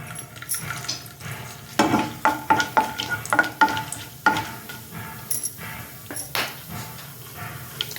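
Garam masala frying in about three tablespoons of hot oil, with a steady sizzle and repeated clinks and scrapes of a spoon stirring the pan, loudest in the middle stretch.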